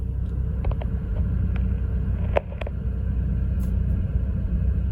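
A BMW 328i F30 with the N20 engine idles steadily, a low continuous rumble close by, with a couple of brief faint clicks partway through.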